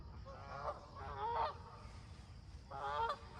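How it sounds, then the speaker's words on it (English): Canada geese honk on a pond, with three loud, nasal calls in quick bursts close by over a low, quiet background. "We just had some new Canadian geese arrivals on the pond here."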